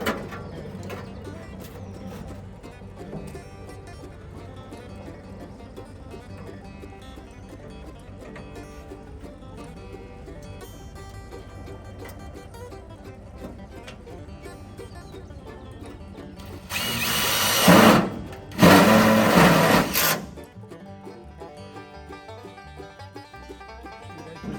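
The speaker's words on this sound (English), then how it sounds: "I'll put a few self-tapping screws into it" Self-tapping screws are driven into a metal battery box by a power drill, two loud, close bursts of a few seconds each near the end after a long stretch of quieter workshop noise.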